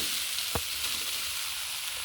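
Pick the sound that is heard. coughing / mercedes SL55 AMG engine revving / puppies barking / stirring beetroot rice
stirring beetroot rice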